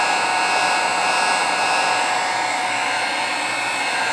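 Heat gun blowing hot air steadily to cure Liquid Kato polymer clay finish on a Celtic knot bracelet, a constant loud whooshing hiss with no pauses.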